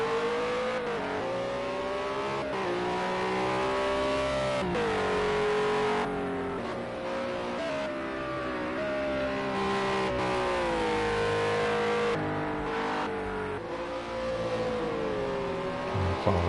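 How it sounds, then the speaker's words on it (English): World Series by Renault single-seater race cars lap the Sakitto GP speedway through the S-curves, engines droning and pitching up and down steadily with gear changes, fairly loud and continuous. "Following Ant around the speedway, this time going through the S's."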